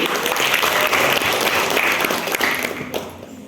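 Audience applause for team B at a quiz competition final, a dense burst of clapping from a full room that holds steady and then fades toward the end.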